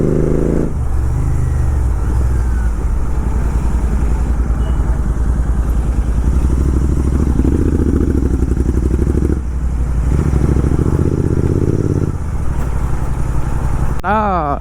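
A Royal Enfield motorcycle engine runs close by with a steady, loud, deep thumping idle and a few brief dips, while someone talks over it throughout.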